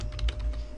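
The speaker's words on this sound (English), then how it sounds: "you type in the name of your team" Keys clatter on a computer keyboard as a team name is typed into a sales training game, a short quick burst of close, distinct keystrokes with a low background hum.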